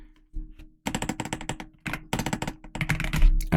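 Computer keyboard keys pressed in quick succession while entering a code editor shortcut, a close, crisp run of clicky taps in clustered bursts with brief pauses between them.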